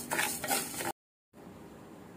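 Black urad dal is stirred as it dry-roasts in a pan: a close, steady scrape and rustle of lentils against metal, cut by a brief silence and then a quieter, continuing stir.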